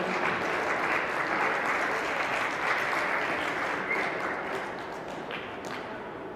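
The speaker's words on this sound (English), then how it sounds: "Congratulations, 7th place and big applause for him." Spectators at a 10m men's air pistol international competition give a steady round of applause for a finalist, a dense even clapping of a modest crowd that slowly fades toward the end.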